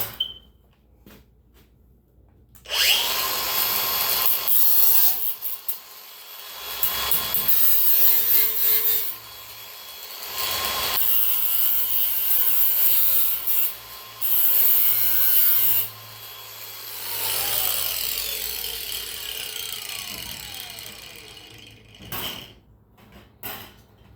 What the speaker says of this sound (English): Do that with the grinder.